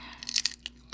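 Crisp crunching bites of dried squid, a few close chewing crunches spread across a second with faint room hum.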